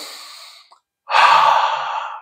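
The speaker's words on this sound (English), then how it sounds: "Take time to take a deep breath" A person takes a deep breath in through the nose: a soft exhale fades to a brief silence, then a loud, close, rushing inhale lasts about a second.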